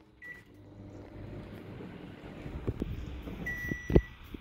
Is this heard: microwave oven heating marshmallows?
yes